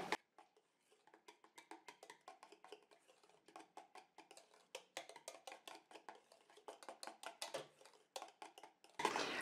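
A utensil stirs homemade hair conditioner ingredients in a container with quick, irregular clinking and scraping strokes, close and fairly quiet, coming in rapid bursts and pausing only briefly between them.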